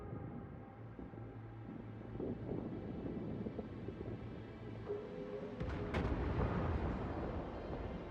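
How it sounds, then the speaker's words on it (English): Heavy 155mm naval guns of the cruiser Mogami fire a salvo in World of Warships, a dense rumbling roar with sharper blasts near the end, set against constant wind and sea ambience of battle. "the second salvo is roughly aimed at the muzzle flashes from the enemy Atago still hiding in the smoke"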